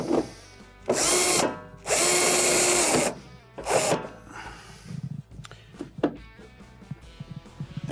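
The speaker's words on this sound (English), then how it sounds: "And we'll install our two number 2 Phillips screws." Power drill driving two No. 2 Phillips screws into a KitchenAid washer console during a motor repair: two loud sustained whirring bursts, the second longer, followed by softer handling clatter and clicks.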